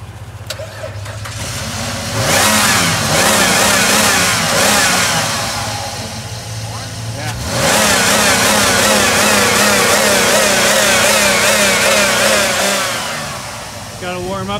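A 4x4 mudder truck engine cranks and catches, then idles and revs in two rising surges as it warms up, loud and close, with a person talking briefly at the start.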